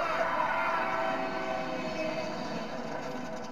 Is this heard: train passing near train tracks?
yes